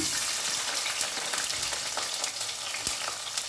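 Onions sizzling in hot oil in a pan for vegetable biryani, a dense continuous frying crackle with sharp spattering pops and occasional stirring clicks, close and alone.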